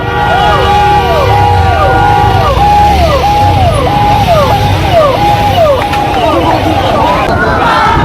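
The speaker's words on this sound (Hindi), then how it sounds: "ये कितने गाड़ियों के साथ आए हुए हैं, देखिए पूरा गाड़ी पूरा आया हुआ है" A convoy of cars arrives for Pawan Singh amid a repeating two-tone vehicle siren, constant engine rumble and a noisy crowd close by.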